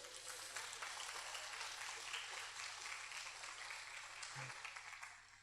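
A church congregation applauds during a sermon. The clapping is a dense, steady wash of many hands from across the room, holding evenly before tapering off at the very end.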